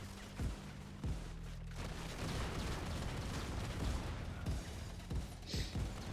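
A video game explosion booms and rumbles with scattered bursts and pops, loud and sustained over several seconds, with no talk over it.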